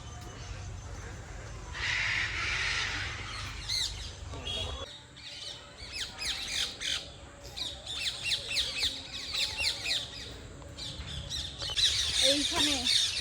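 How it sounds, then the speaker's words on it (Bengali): Parrots in a zoo aviary give bursts of harsh, repeated squawks and chatter at moderate distance, with other birds calling and people talking throughout. "এই যে এখানে রয়েছে টিয়া পাখি"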